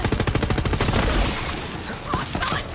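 A legendary weapon in Borderlands 3 fires a rapid full-auto stream of shots, then gives way to a boom and scattered impacts, loud and close.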